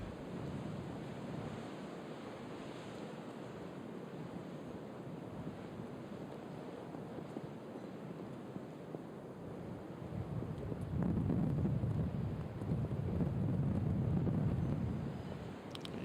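Wind gusts across an open golf course during a women's professional tournament, a steady rushing roar that strengthens into a heavier buffeting surge toward the end, with no voices.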